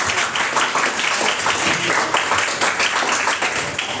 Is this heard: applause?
yes